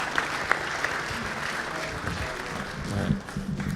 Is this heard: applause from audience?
yes